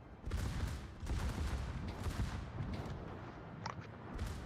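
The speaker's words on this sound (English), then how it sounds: "You do realize you're shooting at a battleship" Naval guns in World of Warships fire at a battleship, heard as a rolling barrage of deep booming salvos in several heavy waves, fairly soft and distant, with no talk over them.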